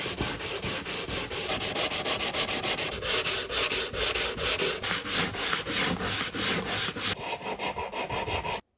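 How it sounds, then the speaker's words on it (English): Filler on a wooden model boat hull is sanded by hand in quick back-and-forth rasping strokes, close and loud and continuous, stopping abruptly at the end. "next job is to sand it all down. We'll get this sanded down and see how it looks"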